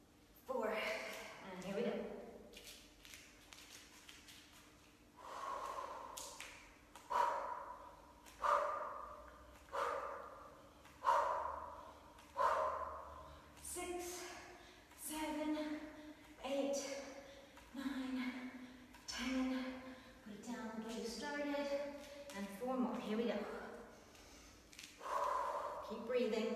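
Heavy, rhythmic breathing after kettlebell swings in a beginner workout, with loud repeated gasping exhales and snorts under a person talking throughout.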